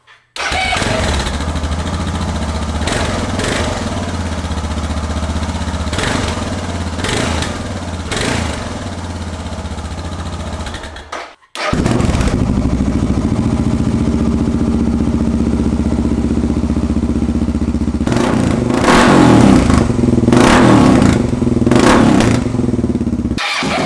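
A loud motorcycle engine idles and revs with a rough, popping exhaust, briefly cutting out midway before roaring back with crackling backfires.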